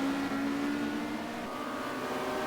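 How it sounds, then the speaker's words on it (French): Touring race cars roar past at the 1990 WTCC round in Barcelona, a sustained engine drone with shifting pitch as cars pass, loud and steady without talk. "Et Hattori qui va doubler McCleary"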